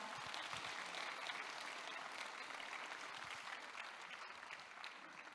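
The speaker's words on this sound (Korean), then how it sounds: "다시 한번 큰 박수 부탁드리겠습니다." A large audience at the opening ceremony of the 2022 World Korean Community Leaders Convention gives a long, steady round of applause, dense and even clapping that eases off slightly toward the end.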